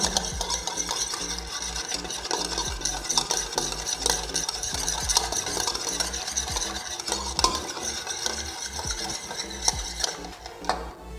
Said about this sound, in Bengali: মিক্সিং যে বিটার থাকে সেটা দিয়ে আমি ভালো করে বিট করে নেব ডিমটাকে